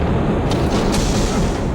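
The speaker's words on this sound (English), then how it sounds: "my broadside volley just went and wiped that out" Warship cannons fire a broadside volley in the space battle game Battlefleet Gothic Armada, with two sharp blasts over a steady loud rumble of battle noise.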